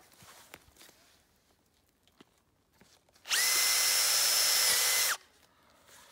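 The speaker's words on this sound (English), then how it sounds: "And you just drill it." A power drill whirs loudly for about two seconds while boring into a FlexClip mainline entrance fitting on maple sap tubing, with quiet handling clicks and taps before it.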